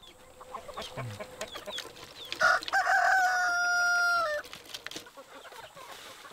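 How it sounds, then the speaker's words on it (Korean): A rooster crows once, loud and close, amid chickens clucking softly in a newly built coop, with scattered clicks and rustles before and after the call. "느닷없이 닭장을 만들어 놓고는 닭을 키우라 하니 모른 척 할 수도 없습니다."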